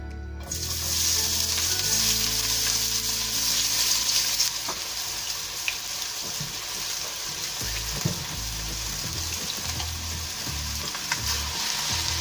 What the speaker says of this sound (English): Next I'm going to add in the onion, garlic and ginger into the oil.